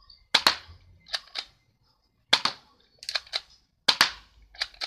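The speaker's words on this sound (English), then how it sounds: "We're going to do 11 rounds with the suppressor on and 11 rounds without it." An airsoft M305 spring-powered rifle fires round after round, each shot a sharp close crack with a mechanical clack after it, spaced about a second or two apart with quiet gaps between.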